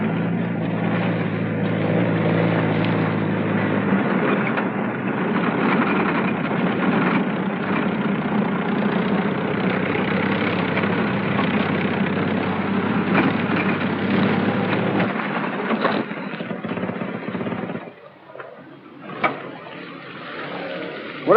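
A 1950s US Army Jeep with an extended air intake and exhaust drives through a river, giving a steady, muffled engine drone with watery churning that drops away near the end.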